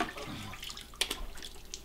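Hands slosh and splash in a water bucket while glue is washed off during bird taxidermy mounting, with a few short, close splashes and drips and no talking.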